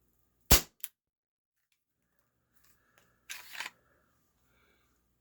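A Cybergun Baby Eagle airsoft pistol fires through a chronograph: one sharp, loud crack followed by a small click, then after a pause a second, rougher burst of mechanical snapping.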